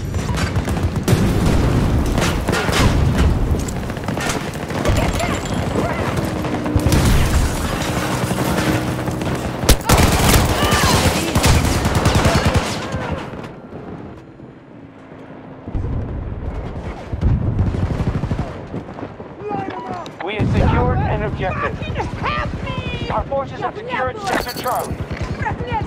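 Dense Battlefield 2042 Conquest firefight with rapid bursts of gunfire and heavy explosions, loud and continuous, broken by a brief lull before more shooting and blasts resume, with radio-style voice callouts mixed in.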